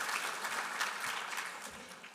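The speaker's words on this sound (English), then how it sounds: "give everybody yourselves a round of applause" Audience applause at a financial firm's annual client event fills the clip with steady, dense clapping, moderately faint and unbroken throughout.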